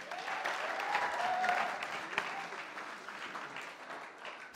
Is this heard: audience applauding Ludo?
yes